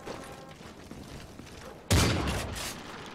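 Gunfire in Call of Duty Modern Warfare 3 (MW3): a sudden loud burst of shots with a brief rattling tail, following a quiet stretch of low background noise, with no voices.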